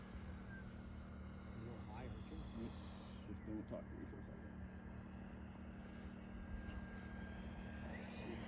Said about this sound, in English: This is my first landing ever with this plane